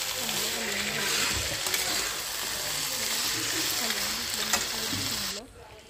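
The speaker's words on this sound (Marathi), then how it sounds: "तेल सुटल्यानंतर ज्या आपण सुक्कं फोडी काढून घेतलं होत्या ते त्याच्यामध्ये टाकल्या। चांगलं टाकून ते हलवून पूर्ण सगळा मसाला सगळीकडे चांगलं हलवून घ्यायचं।" Mutton pieces sizzle steadily in hot oil with masala while being stirred, a constant close frying hiss with rhythmic scraping of a spoon in the pan, cutting off at the end.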